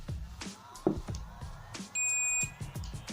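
A digital multimeter gives a single steady electronic beep, about half a second long, while a capacitor is tested, over faint room noise and handling sounds.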